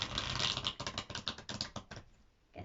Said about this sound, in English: Just giving the cards a good shuffle